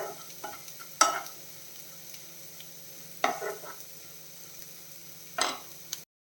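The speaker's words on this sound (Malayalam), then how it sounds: "ഈ ഓട്സ് വറുക്കുമ്പോൾ കൈ വിടാതെ ഇളക്കിക്കൊണ്ടിരിക്കണം കേട്ടോ" Rolled oats dry-roasting in a pan, with a few distinct stirring scrapes spaced seconds apart over a quiet low hum, close and fairly soft.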